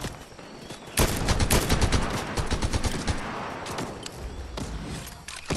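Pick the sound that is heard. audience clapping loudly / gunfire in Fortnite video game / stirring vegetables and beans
gunfire in Fortnite video game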